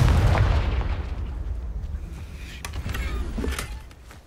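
Confringo blasting spell explosion in Hogwarts Legacy: a heavy booming burst up front, then a rumbling decay with scattered crackling debris and a smaller pop toward the end, loud and close.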